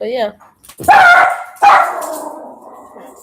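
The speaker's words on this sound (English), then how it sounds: "ignore my dog." A dog barks twice, loud and close, right after a brief spoken remark; the second bark trails off into a whine.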